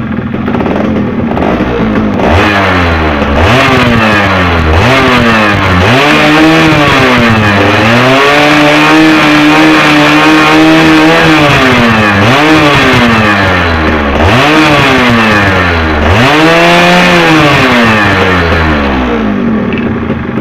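A Yamaha F1ZR two-stroke motorcycle being set up at the carburetor revs repeatedly, close and loud, climbing to a sustained high scream and dropping back between blips of the throttle, with no talking.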